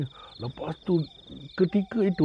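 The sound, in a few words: crickets chirping at night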